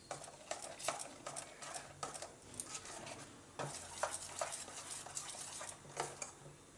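Thick beetroot uttapam batter with chillies is stirred in a bowl: repeated scraping, slapping strokes in a steady rhythm, fairly close and moderately loud, with no talking.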